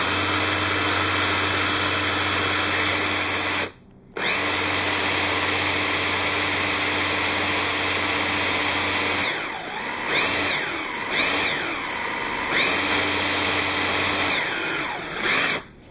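A homemade alternator built from an induction motor fitted with neodymium magnets runs under power from a second induction motor, giving a loud, constant mechanical whine and hum with one short dropout and a wavering, sweeping pitch near the end.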